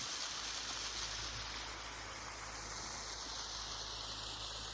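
A waterfall in the Saguenay fjord heard from a dinghy, a steady broadband rush of falling water, faint and distant, with a low engine-like hum underneath and no speech.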